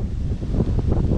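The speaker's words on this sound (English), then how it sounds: "Sorry if the wind is bad for this video, but it is windy today." Gusty wind outdoors in a cemetery in Willoughby, Ohio buffets the microphone, producing a low, uneven rumble that swells and dips throughout.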